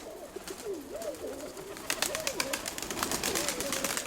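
Pigeons coo softly in repeated warbling phrases, with scattered clicks and flutters growing busier in the second half.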